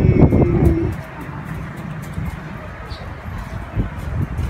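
Low racing-pigeon coos repeat outdoors near the start, then fainter cooing and light chirps continue over a soft background rumble.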